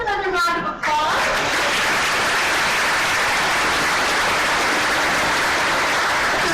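A conference audience at a digital transformation summit applauds a departing panel; a voice speaks briefly at the start, then dense, steady clapping fills the room loudly for several seconds.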